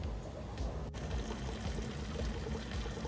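Fry food poured into a 10-gallon fish tank gives a soft, continuous granular trickle over a steady background hiss, faint and even throughout.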